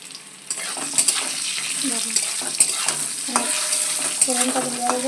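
Fried potatoes and green chillies sizzle in a pan, a close, fairly loud frying hiss broken by repeated spatula scrapes and knocks against the pan, no speech.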